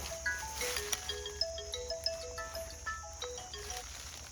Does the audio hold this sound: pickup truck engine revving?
no